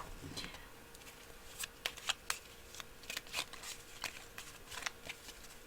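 Tarot or oracle cards for a reading are shuffled close by in quick riffling bursts and sharp snaps, with a soft voice speaking faintly beneath.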